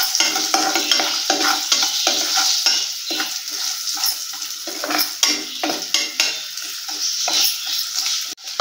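Grated coconut sizzles in a pan over a medium flame as a utensil stirs and scrapes it repeatedly, a close, steady frying hiss punctuated by frequent clinks against the pan.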